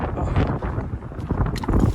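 Wind buffeting the microphone while riding a heavy electric scooter, loud continuous rumbling gusts that swell and dip throughout, with no talking.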